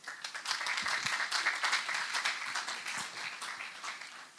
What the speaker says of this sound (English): So a warm round of applause to the interpreters.